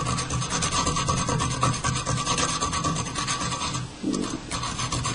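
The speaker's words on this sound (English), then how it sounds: "Take some sandpaper, or this is a diamond dust hook hone" A diamond dust hook hone rasps over the butt of nylon fishing line held in a fly tying vise, roughing it up in a steady, close, continuous back-and-forth scrubbing with a brief pause near the end.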